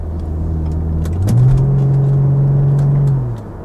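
An Audi B7 A4 Avant drives through a corner, its engine a steady close rumble that rises in pitch as it accelerates, holds, then eases off at the end.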